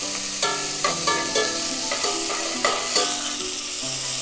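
Onions and chilies fry for a mushroom biryani, a loud, close sizzle with rhythmic stirring scrapes roughly every half second and some tonal ringing from the pan, heard alone.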